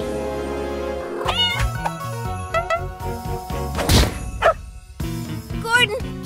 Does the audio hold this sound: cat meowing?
yes